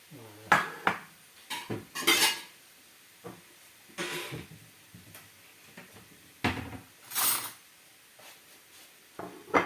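Fried potatoes with morel mushrooms being served onto plates in a home kitchen, sharp clinks and scrapes of cutlery on dishes in irregular bursts with quiet pauses, close and clear.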